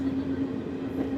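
The 12075 Jan Shatabdi Express runs on double-line track in Kerala. A steady rolling rumble of the coaches carries a low mechanical hum and faint rhythmic wheel knocks, continuous and close.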